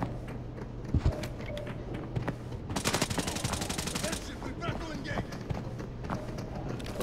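Rapid automatic gunfire crackles in the video game Arena Breakout, a sustained burst midway with scattered shots around it, heard under steady talking.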